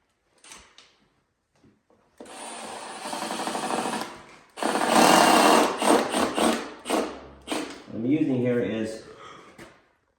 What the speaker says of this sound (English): Screw it down.